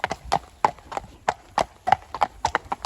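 Chester the horse walking on hard ground, hooves clip-clopping in a steady rhythm of sharp, close strikes, about ten across the stretch, with no talk over them.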